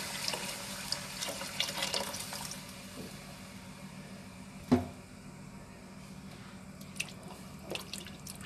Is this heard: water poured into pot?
yes